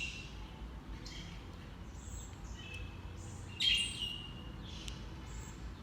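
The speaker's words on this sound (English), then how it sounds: "now all the birds are out and they're chirping" Birds chirp after rain in Havana, scattered high tweets and calls over a soft outdoor background, with one brighter, louder call standing out midway.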